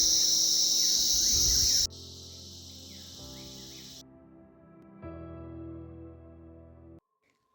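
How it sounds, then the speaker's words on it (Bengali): Loud, steady cricket chirping fills the dense forest of Neora Valley National Park, a high shrill drone that cuts off abruptly partway, leaving fainter insect and ambient forest sounds before falling silent. "তীব্র একটা ঝিঝি পোকার ডাক ভেসে আসছে"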